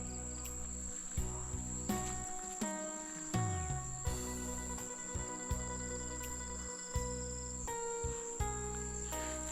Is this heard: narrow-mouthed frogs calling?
yes